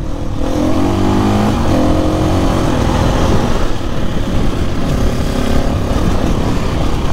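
A KTM 350 dirt bike engine revs loud and close on a trail, its pitch rising and falling through the throttle in a continuous drone that fills the whole stretch, with no voices.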